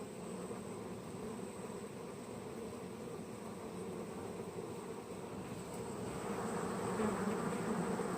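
Honeybees buzz steadily around a healthy hive during a strong pollen flow, a dense continuous hum of many wings that grows slightly louder toward the end.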